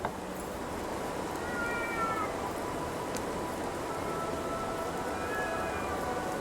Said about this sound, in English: Oh, that's in game. I thought that was my cat.